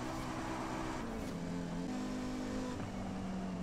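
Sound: car accelerating through gears in Forza Horizon 5 video game

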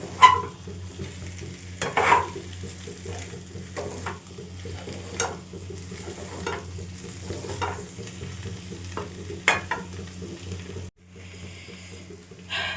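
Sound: mutton being sautéed and stirred in pan

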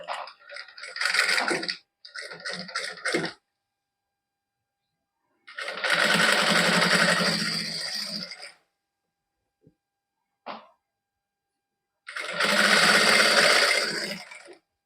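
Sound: home sewing machine stitching heavy velvet suit fabric

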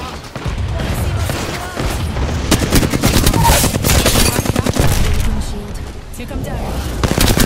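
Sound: gunfire in video game Apex Legends

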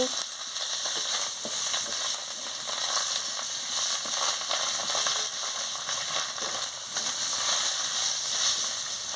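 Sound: spice paste frying in a pan

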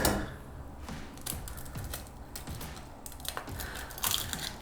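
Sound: cracking eggs for an omelette

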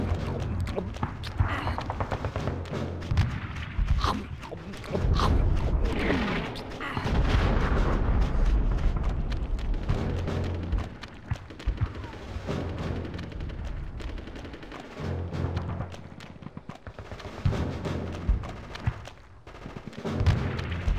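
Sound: gunfire and explosions in video game Conker's Bad Fur Day

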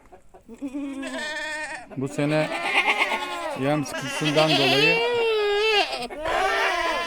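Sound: goats bleating on a farm

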